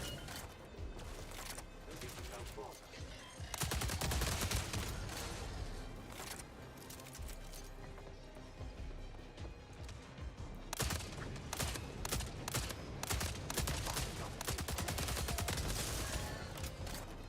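A Mark III LMG machine gun in a video game fires in long, dense automatic bursts with brief pauses, loud and close, the rapid shots crackling and echoing throughout.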